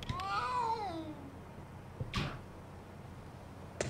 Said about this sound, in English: Oh, the cat still looks very scared.